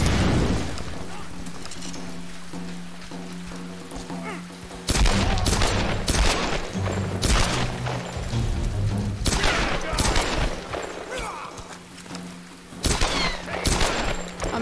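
Gunshots in Tomb Raider Definitive Edition during a fight, with a dense barrage of loud, sharp bursts and booms after a quieter opening, repeated in irregular clusters.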